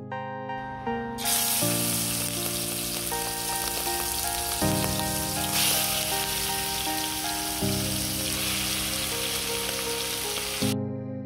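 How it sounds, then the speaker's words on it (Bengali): Shrimp fry in hot oil in a wok, a continuous close sizzle that runs steadily under a melodic music track, with no talk. "তেল গরম হয়ে গেলে চিংড়িগুলো আমি দিয়ে দিচ্ছি কড়াইয়ের মধ্যে"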